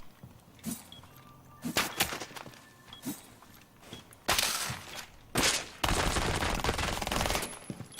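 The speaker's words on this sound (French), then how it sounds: "Je viens de tirer, je sais pas si t'as entendu, mais j'ai tiré." Gunfire in a tactical shooter video game, scattered single shots and then longer loud bursts of rapid fire that fill the second half, with footstep-like clicks between them and no talking.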